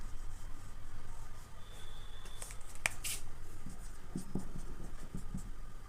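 A pen or marker writes out a mathematical induction step by hand, soft continuous scratching strokes close by, with a couple of sharper taps partway through.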